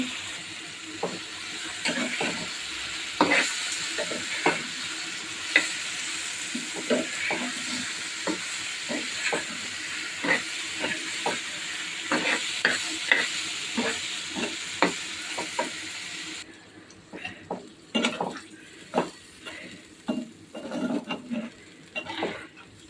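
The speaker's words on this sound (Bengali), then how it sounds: "ওই মাছের জন্য রসুন বাটা, হালকা একটু আদা বাটা দিয়ে দিয়েছি, দিয়ে সুন্দর করে ভালো করে কষিয়ে নিচ্ছি" Fish sizzles in a pan with garlic paste and a little ginger paste while a utensil stirs and scrapes it in steady, uneven strokes. A constant hiss runs beneath the close, sharp clinks, and no one speaks.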